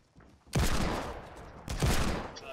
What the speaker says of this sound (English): Oh god, there's shooting everywhere.